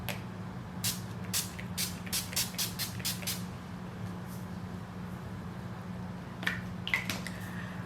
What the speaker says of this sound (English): We're just gonna spray a couple of spurts of this.